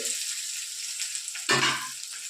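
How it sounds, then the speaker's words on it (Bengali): Chicken pieces fry in hot oil with a steady close sizzle, and a brief louder burst of hiss and stirring midway before settling back. "তো দেখুন এরকম করে ভাজতে হবে, খুব বেশি কাঁচাও নয় আবার খুব বেশি ভাজাও নয়"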